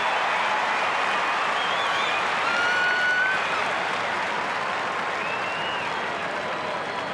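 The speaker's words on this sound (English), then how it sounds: "Saints fans looking a bit nonchalant there, the way they're clapping that." Australian rules football crowd at a St Kilda versus Kangaroos match clapping and murmuring after a goal, a sustained broad roar of applause with whistles, heard from a distance.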